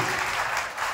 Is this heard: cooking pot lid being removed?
no